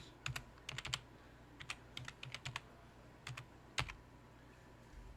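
Keys clatter on a computer keyboard while a TikTok ID is typed, coming in quick bursts of a few close, crisp keystrokes separated by short pauses in a quiet room.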